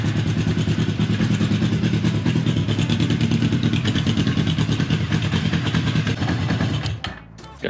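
A small motorcycle engine runs steadily and close by with a rapid, putting idle, then cuts out abruptly near the end.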